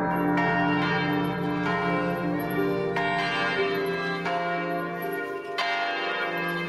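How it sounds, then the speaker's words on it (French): Church bells in a bell tower are rung clumsily, all of them at once, in several loud overlapping strikes with long, ringing tones that blend into a continuous resonant wash. "fait sonner maladroitement toutes les cloches"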